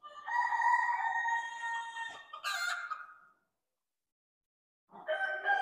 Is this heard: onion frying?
no